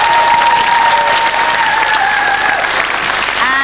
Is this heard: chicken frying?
no